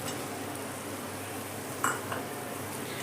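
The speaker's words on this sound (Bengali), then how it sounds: "এবার আমি এর মধ্যে দিয়ে দিচ্ছি সয়াবিন।" Small soya chunks go into spice masala frying in oil, giving a faint steady sizzle and light stirring. A single metallic clink of a utensil against the pan stands out near the middle.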